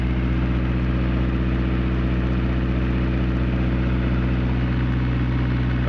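A 15 kW diesel generator runs steadily just after its first-crank startup, a loud, constant low engine drone with a whirring hum that holds without change throughout.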